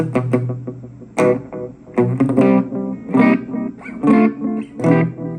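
Electric guitar notes and short phrases through a Shark Draft Time DL-1 delay pedal, each note followed by warm, darker echoes that trail off between bursts of playing.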